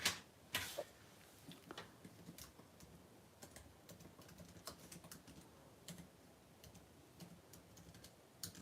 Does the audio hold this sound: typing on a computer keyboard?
yes